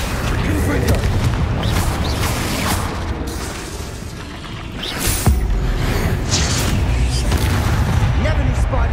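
Explosive Confringo spell blasts amid busy combat in Hogwarts Legacy, a dense run of loud booms and bursts with a sharp hit in the middle and continuous rumbling throughout.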